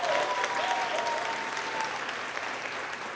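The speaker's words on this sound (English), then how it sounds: "give him a round of applause" Graduation ceremony audience giving a round of applause, steady clapping from a seated crowd that stays fairly strong and then tapers off gently over a few seconds.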